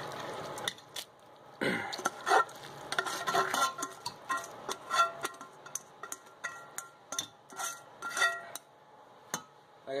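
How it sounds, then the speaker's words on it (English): Cooked pasta is stirred into a creamy cheese sauce, with a steady series of clinks and scrapes of a utensil against the pot and soft wet squelches in between. "So now we're going to add the pasta that we just cooked up."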